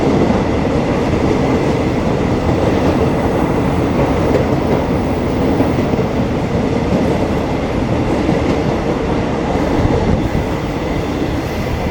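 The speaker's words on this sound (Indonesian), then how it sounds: "KRL Bogor Jakarta Kota." A KRL Bogor–Jakarta Kota commuter electric train rolls past close by, a loud continuous rumble with wheel clatter and rail noise that holds steady throughout, with no talking.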